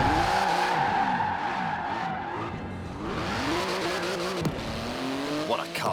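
Engine note of a 3.8-litre twin-turbo flat-six, 700-horsepower carbon-fibre car in Forza Horizon 4, rising and falling through gear changes with tyre squeal, loud and continuous, with a voice talking over it.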